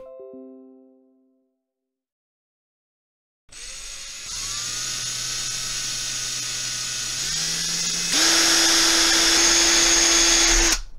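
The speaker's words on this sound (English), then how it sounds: "so I can drill a hole right in the side of the box here" After a brief tonal ring and a moment of silence, an electric drill spins up close and loud, boring a hole in the side of a plastic box, its pitch rising in steps as it bores.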